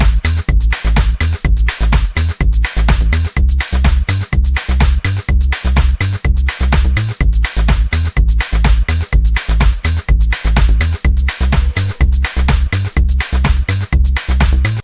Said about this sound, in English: the whole percussion bassline loop sounds like this